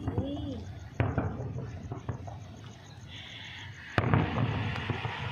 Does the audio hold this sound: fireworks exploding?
yes